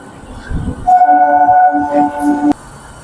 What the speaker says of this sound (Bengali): আর আমাদের ট্রেন এখন বেরোচ্ছে সাঁতরাগাছি স্টেশন থেকে